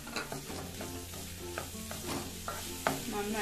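Chopped carrot being stirred into a squid masala in a pan, a spoon scraping in irregular strokes over a steady close sizzle, with no voices.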